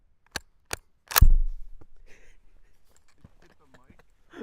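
A World War–era rifle bolt is worked open during a sound-effects recording session: two crisp metallic clicks, then a sharper, louder clack that rings out and fades, with faint shuffling and quiet voices afterward.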